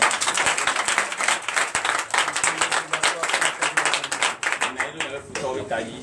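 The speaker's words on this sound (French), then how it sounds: "Donnez des acclamations." Church congregation clapping and cheering during a Sunday service in Benin, sharp uneven claps in a lively dense burst that gradually thins and softens toward the end, with voices mixed in.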